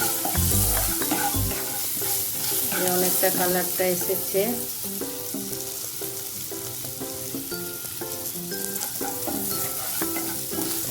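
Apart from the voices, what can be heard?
food frying and being stirred in a pan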